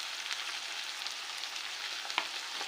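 Okra curry with turmeric, tomato and onion fries and is stirred in a pan. A soft, steady sizzle carries light scraping from the stirring and one sharp clink near the end, with no one speaking.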